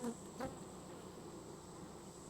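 Honeybees buzzing at a crowded hive, a steady close droning hum with a couple of brief louder passes near the start, faint overall and with no talk.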